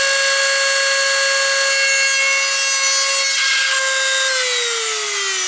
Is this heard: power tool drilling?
yes